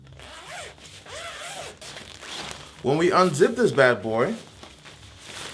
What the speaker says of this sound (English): When we unzip this bad boy